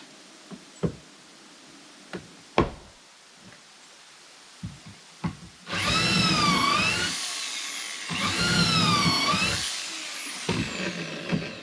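Power drill run from a Bluetti EB55 700 watt power station: two whining bursts of about a second and a half each, rising and falling in pitch, after scattered knocks and clunks in a quiet space.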